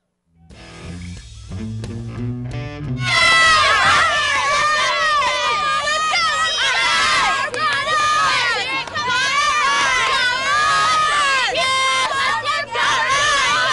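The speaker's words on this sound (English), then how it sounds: "look at some of the Marauder cheerleaders there cheering their team on to a victory here tonight" High school cheerleaders for the Mingus Marauders shout and cheer at a night football game against Payson, a loud sustained chorus of young voices rising after a brief musical intro, with crowd noise underneath.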